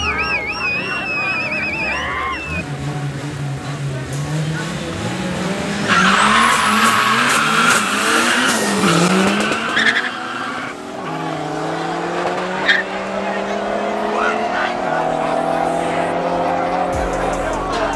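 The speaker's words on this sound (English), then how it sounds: "Turbo E30 BMW versus Turbo Conquest." A turbocharged E30 BMW and a turbocharged Conquest launch at a drag race, with tire squeal, turbo whine and loud revving engines climbing through gears as the cars pull away, while a commentator talks over them.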